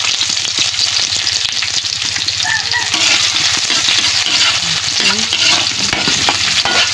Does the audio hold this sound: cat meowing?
no